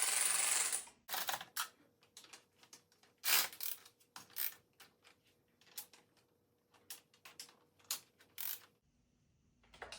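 A wrench tightening carburetor nuts on a 1971 Dodge Charger Super Bee, with a series of close, crisp metallic clicks and ratcheting taps in irregular bursts, separated by near silence.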